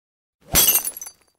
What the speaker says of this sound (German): Oh nein, die teuren Gläser.